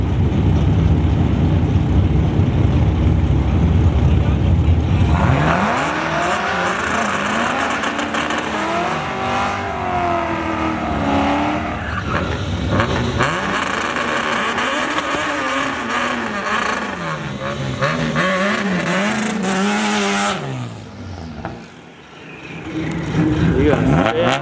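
Honda Civic racing a Corvette on a race track, with loud engines revving and accelerating continuously throughout, pitch rising and falling as the cars pass, while people shout and talk over the noise.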